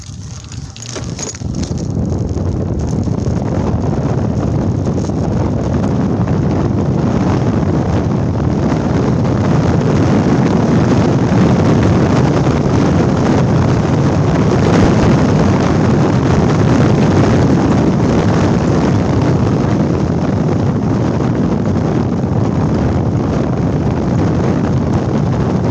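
Steady, heavy wind roars across the microphone throughout while riding an E Vader electric motorcycle with a Votol controller, a constant loud rushing buffet with no voices.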